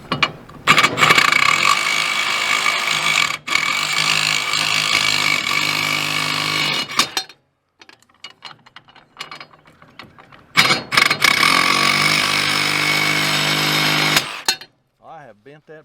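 A power saw trims the bottom of an electrical box in two loud, rough bursts of several seconds each, separated by a quieter stretch with clicks and handling noises.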